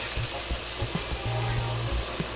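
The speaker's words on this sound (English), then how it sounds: "got a lot of sizzle going on" Chicken breasts sizzling on a Power Smokeless Grill XL, a steady close frying crackle with small pops and brief bursts throughout, no voices.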